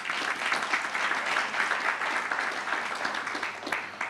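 Audience at an investment conference applauds, a sustained, even clapping from a crowd filling the whole stretch at steady volume.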